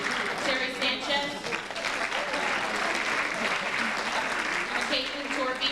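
An audience at a Rye Neck High School National Honors Society ceremony gives a dense, loud round of applause. The clapping is sustained and close and carries on without a break.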